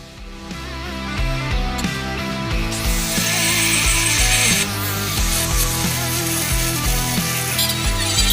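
A reciprocating saw cuts through a steel Chevy truck frame rail with a loud, continuous, rhythmic rasp that shifts pitch as the cut goes on.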